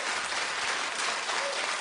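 A studio audience at a daytime talk show claps continuously, a dense, even wash of applause filling the room without a break.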